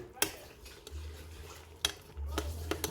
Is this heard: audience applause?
no